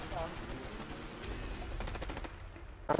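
Enemy gunfire aimed at the player in the game A Way Out, a steady rattle of shots packed under game sound, ending in a few sharp close cracks.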